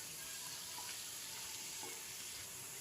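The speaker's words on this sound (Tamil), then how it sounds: "இது வந்து சைடில் வந்து கறியை வந்து ஃப்ரை பண்ணிகிட்ருக்கேன்" Mutton pieces frying in a pan beside a biryani preparation give off a steady, even sizzle that runs alone without pause, a faint stir or two breaking the hiss.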